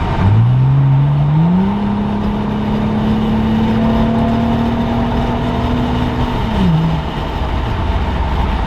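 A second-generation Acura TL, heard with the windows down, revs loudly: the engine pitch climbs quickly, holds steady for several seconds and then drops off, with road rumble underneath.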